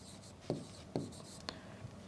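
Chalk or marker strokes on a classroom board while a chemistry formula is written, three short scratchy taps standing out over a quiet room with faint background hiss.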